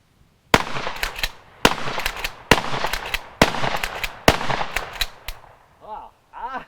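A pump shotgun fires old, neglected ammunition in five loud, sharp blasts spaced about a second apart, each ringing briefly, followed by short exclamations from a person.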